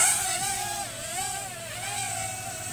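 Small IN 1802 toy drone flying, a steady close high-pitched motor whine that rises and dips as it maneuvers, with no talking.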